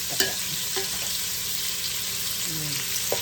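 Carrots cook in a pan with a continuous close sizzle of frying, punctuated by a few light clinks and scrapes of stirring.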